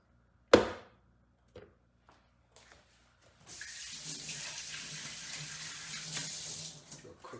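After a sharp knock and a few faint taps, a kitchen tap opens and water runs steadily as coffee grinder parts are rinsed, the flow close and continuous to the end.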